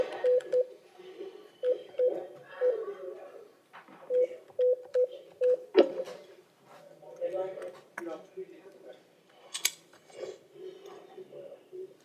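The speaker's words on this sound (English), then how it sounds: "All right, Ms. Fijkowski, I'm gonna get your attorney on the phone" Telephone keypad dialing tones beep in short bursts and clusters as a call to an attorney is placed from a courtroom bond hearing, with murmured talk underneath.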